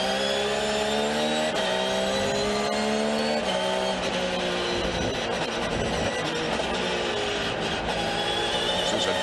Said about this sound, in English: So it's great to hear that engine at work